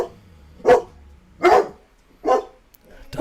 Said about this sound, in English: Dogs are so stupid.